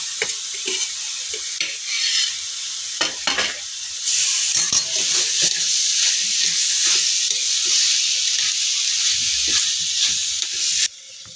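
Paneer and potato pieces frying in a pan and being stirred, a continuous bright sizzle with repeated scraping and clinking of the spatula against the pan, close and fairly loud throughout.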